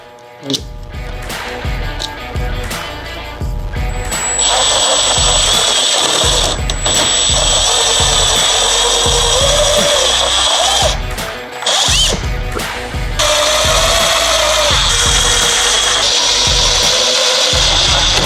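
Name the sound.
power drill driving screws to fit front lip on Audi bumper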